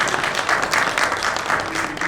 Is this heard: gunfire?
no